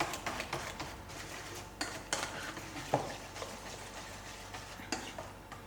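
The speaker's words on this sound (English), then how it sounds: "I'm going to beat it very well" Banana batter for battered green bananas being beaten in a bowl, a steady run of soft scraping and tapping strokes with sharper clicks against the bowl, fairly close, with no talk.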